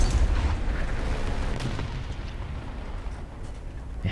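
A tank cannon fires in War Thunder, a heavy low boom with a rumbling blast that decays over about four seconds, loud and close with no speech.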